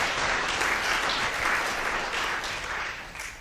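An audience applauds to welcome poet Geoffrey Hill at a reading, steady close clapping filling the room and tapering off at the end.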